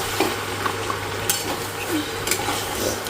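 Marinated goat meat going into hot oil with tomato, a steady close sizzle with a few scraping stirs and light clinks of a pan.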